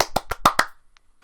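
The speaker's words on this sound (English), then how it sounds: "Clapping." Hands clap five times in a quick, even rhythm, sharp and close, followed by near silence with a couple of faint small taps.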